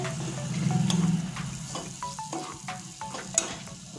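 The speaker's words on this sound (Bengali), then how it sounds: "এবার দেখুন আমার মশলাটা কত সুন্দর করে ভেজে নিয়েছি দেখুন মশলা থেকে আমার তেল ছেড়ে গিয়েছে" Spice paste fries in oil with a continuous crackling sizzle and the scrape and knock of a spoon stirring the pan, close and fairly loud, with no voices.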